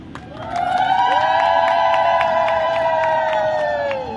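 A crowd at a block-level Panchayati Raj Day gathering in Odisha cheers and claps loudly, a sustained swell of voices and hand claps lasting several seconds with no speech over it.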